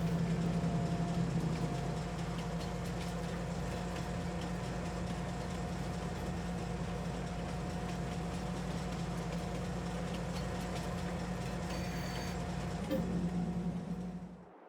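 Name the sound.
train departing with loaded soybeans in Farming Simulator 22 video game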